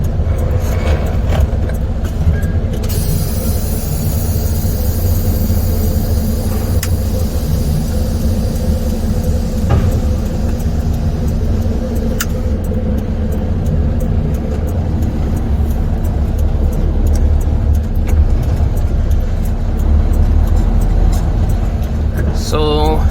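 A semi truck drives through a distribution center lot toward the receiving office, its engine a steady low rumble inside the cab, with occasional clicks and someone talking over it.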